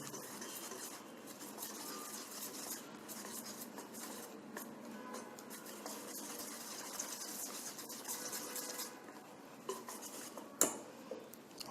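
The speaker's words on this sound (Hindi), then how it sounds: "देखते हैं पहले हमारा बैटर कैसे बनता है" A spoon works besan batter in a bowl, producing continuous soft stirring and clinking against the dish, with a few sharper knocks near the end.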